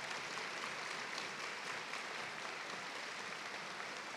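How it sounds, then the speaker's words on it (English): Audience applause at a nursing pinning ceremony, a steady, even wash of many hands clapping in a large hall, somewhat distant and constant throughout. "Let's give them a round of applause."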